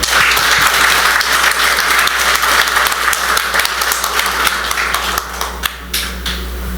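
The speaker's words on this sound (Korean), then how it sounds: "큰 박수 한번 부탁드리겠습니다" A crowd at the opening ceremony of a Gyeongbuk education superintendent candidate's campaign office breaks into loud, sustained applause, dense clapping that stays strong throughout before loosening into a few scattered claps near the end.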